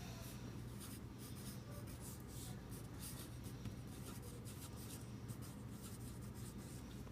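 A pen scratches steadily across paper while a Bohr diagram is drawn, a soft continuous rubbing with short strokes and quick repeated scribbles, close and quiet, with no talking.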